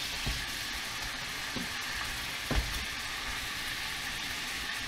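Pork chops frying in a pan give a steady, moderately loud crackling sizzle throughout, with a few soft knocks and clatters from handling at the pan.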